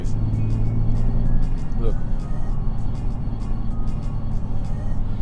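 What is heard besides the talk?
road noise inside a moving Nissan 370Z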